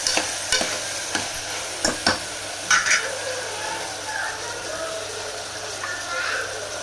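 Eggplant sautéing in a pan, with a soft continuous sizzle and several sharp spatula scrapes and knocks in the first few seconds, then quieter frying, close by.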